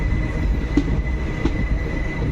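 Nagpur–Madgaon train rolling past Kamathe village on the Konkan line without stopping, a steady loud rumble of wagons with faint wheel squeal and periodic clacks over the rails.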